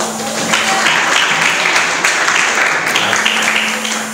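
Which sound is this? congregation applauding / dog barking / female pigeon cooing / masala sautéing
congregation applauding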